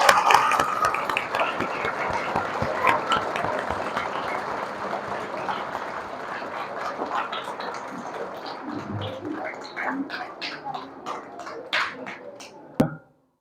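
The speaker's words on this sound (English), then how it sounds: "Everyone give a big round of applause." An audience at a school speech competition claps for the winners, a steady spread of hand claps that thins out toward the end, moderately distant.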